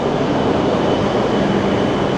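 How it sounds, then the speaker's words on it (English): An E5 Shinkansen train at a platform in Tokyo's Ueno Station, a loud, steady broadband rumble and hiss of the train and station with no break or talking. "Looks like we have an E5 train that just got here as well."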